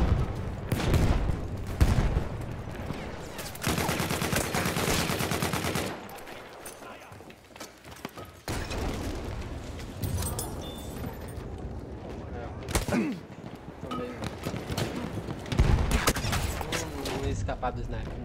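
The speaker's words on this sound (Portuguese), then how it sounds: "Não foi nem o sniper, foi uma machine gun ali" Machine gun fire in the World War I shooter game Battlefield 1, with dense bursts of automatic gunfire and explosions. A player talks over them throughout.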